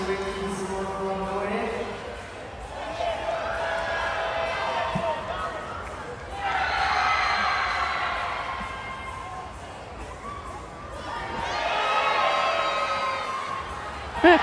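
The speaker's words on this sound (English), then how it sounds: "All the whistling is to do with the unchanged score of Cobden, who is competing for Croatia, so in front of this home crowd" Home crowd at the 2026 European Artistic Gymnastics Championships in Croatia whistling over an unchanged horizontal bar score, a sustained arena din rising and falling in waves with a commentator talking over it.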